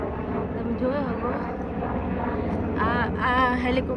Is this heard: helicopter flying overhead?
yes